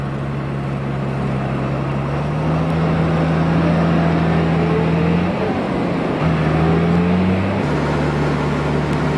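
A Fendt Favorit 900 Vario tractor drives with a steady, loud engine drone that rises slightly as it accelerates, continuous throughout under faint background sound.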